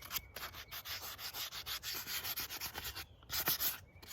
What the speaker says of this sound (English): So I'm gonna sand this whole thing